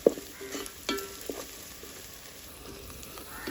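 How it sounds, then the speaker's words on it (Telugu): Low frying hiss in a pan with a few soft stirring scrapes and taps, quiet and steady, from a mutton head and raw mango curry being cooked with onion and green chillies. "ఈ రెండు కూడా దారుణంగా వచ్చేలాగా వేపుకోవాలి."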